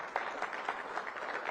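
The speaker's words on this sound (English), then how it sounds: "let's give a round of applause for the young people that are in the room" A room of people at a community listening session clapping for young attendees, a brief dense burst of applause at moderate distance.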